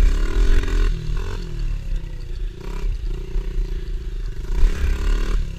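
A motorcycle on a woodland trail revs in low gear for a wheelie attempt, loud and close, with engine pitch rising and falling along with clattering and scraping.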